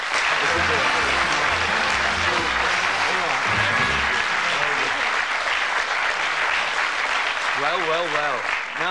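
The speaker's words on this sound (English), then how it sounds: "Give them a nice round of applause." Loud, sustained applause from a large TV game show studio audience on Bullseye, steady clapping throughout with some crowd noise underneath.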